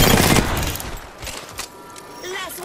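Gunfire in Apex Legends, a loud burst of rapid shots at the start followed by scattered sharper cracks, with in-game voice lines over the action.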